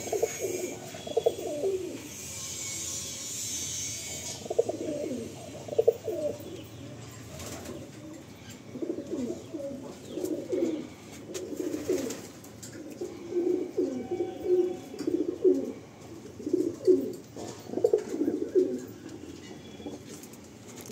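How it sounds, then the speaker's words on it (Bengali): Andhra pigeons coo in a loft, repeated soft throaty bursts from several birds overlapping in an uneven rhythm, close and fairly loud, with no talk. "এই পায়রা আমি 6 ঘন্টা প্লাস এখনই উড়াই।"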